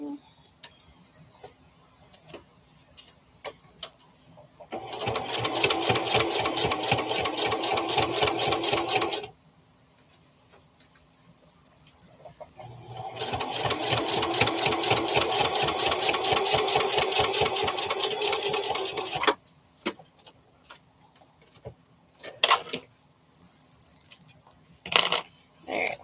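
A sewing machine stitches the muzzle of a Brookie Bear teddy in two long, fast, steady bursts separated by a quiet pause, followed by scattered clicks and small handling noises.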